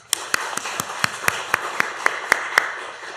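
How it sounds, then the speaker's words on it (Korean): A church congregation at a Sunday evening service clapping in thanks, about a dozen sharp, evenly spaced claps in a steady rhythm over a few seconds. "그 신앙의 선배들을 위해서 감사의 박수"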